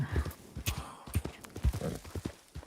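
Horse hooves clip-clop on the ground in the video game The Outpost, a rapid uneven run of close, fairly loud hoofbeats lasting a few seconds.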